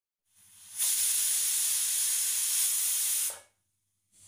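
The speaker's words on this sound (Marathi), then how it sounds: "आता आपण कुकरचं झाकण लावून कमी गॅसच्या फ्लेमवर कुकरची एक शिट्टी घेऊ।" A pressure cooker holding masala pulao on a low gas flame lets out one loud, steady hiss of escaping steam lasting about two and a half seconds, starting and stopping sharply, with quiet surroundings before and after.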